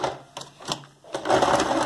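A sewing machine stitches tape onto sheer gathered curtain fabric, running in short bursts with a brief pause, then a steadier, louder stretch of rapid mechanical stitching close by.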